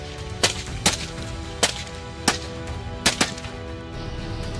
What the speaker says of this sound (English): gunfire erupted in rapid succession